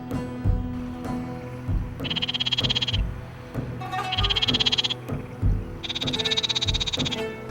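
Frogs at artificial irrigation pools croak loudly and close, in repeated rhythmic trilling bursts lasting about a second each, with lower grunting calls filling the gaps.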